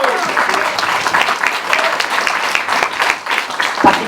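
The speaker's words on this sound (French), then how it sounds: "Applaudissez-le." Audience applause at a round-table discussion event in Paris: dense, steady clapping from a crowd that fills the full four seconds at an even, sustained level.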